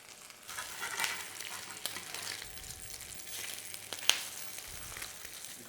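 Spam sizzles in a little oil in a deep pan, a continuous close frying hiss with scattered crackles and a few sharp pops.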